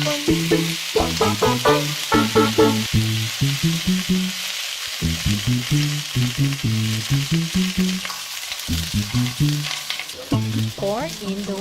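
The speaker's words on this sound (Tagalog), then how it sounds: "Saute the garlic, onion, and ginger. Add the clams." Garlic, onion and ginger fry in hot oil with clams for a Filipino clam soup, a steady sizzle with occasional stirring scrapes that sit beneath a louder rhythmic melody playing throughout.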